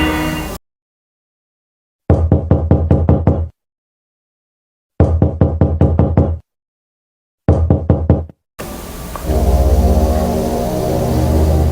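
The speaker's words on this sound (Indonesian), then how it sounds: "Tiba-tiba suara ketukan itu muncul lagi." Knuckles rap on a door in three quick volleys of sharp, evenly spaced knocks, with stretches of silence between them, then a sustained ambient hum.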